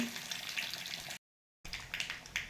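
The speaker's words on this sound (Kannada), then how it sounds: "ಕುದಿಯುತ್ತಾ ಇದೆ ನೋಡಿ" Toor dal saaru boiling in a pot, a soft continuous bubbling and gentle sizzling, broken by a brief silent gap before resuming at low level.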